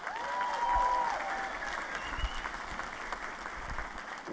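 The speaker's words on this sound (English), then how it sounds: "Let's once again give them a round of applause." Graduation crowd applauding spring 2022 commencement graduates at Warner Pacific University, a steady, moderately distant wash of clapping that swells early and then holds, with a faint tone drifting above it.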